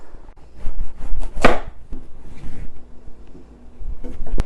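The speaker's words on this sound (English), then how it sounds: "The other option is to cut it into 1-inch squares." A knife chops butternut squash into 1-inch cubes on a board, giving sharp, irregular knocks and crunches, loud and close, with one especially crisp cut midway and no talk.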